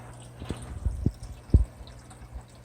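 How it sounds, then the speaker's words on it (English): Water drips and gurgles in short, irregular splashes as a custom aquaponics bell siphon kicks in and starts draining a grow bed, with close, moderate sound and no voices. "bell's kicking in, siphon's starting to work, pulling the water"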